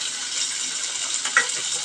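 Chopped onion and a small tomato frying in a pan give a steady, close hiss of sizzling, with a brief clink partway through and no talking.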